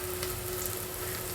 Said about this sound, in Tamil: இப்போ தக்காளியை சேர்த்து வதக்கிக்கலாம்